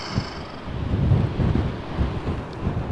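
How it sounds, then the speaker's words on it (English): Strong gusts buffet the microphone beside an outdoor bench with a view, a steady low rumbling roar that swells and eases without any talk. "It's too windy to sit on this bench"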